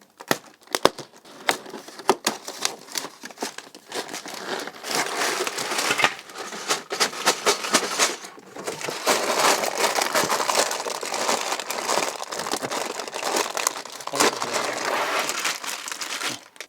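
A white inner cardboard box from the LEGO Marvel SHIELD Helicarrier set (76042) is opened, giving a long stretch of close, busy crinkling and crackling of packaging that runs almost continuously.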